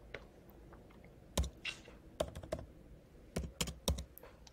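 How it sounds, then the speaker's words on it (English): ESC keys tapped on a computer keyboard, a few quiet, crisp keystrokes in small irregular bursts over a hushed background, with no voices. "We can type in ESC here"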